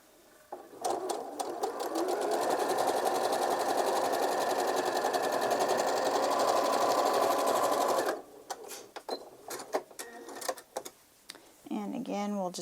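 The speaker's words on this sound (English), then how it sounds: "we'll just sew it together like what we did with the shoe fly" A sewing machine stitching quilt blocks runs loud and steady for about seven seconds, then stops, followed by handling clicks and a voice near the end.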